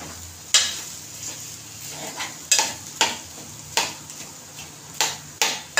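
Potatoes for a dry aloo bhaji being stirred and sautéed in a pan, with repeated sharp scrapes and clinks of a spoon against metal over a faint steady sizzle, no talking.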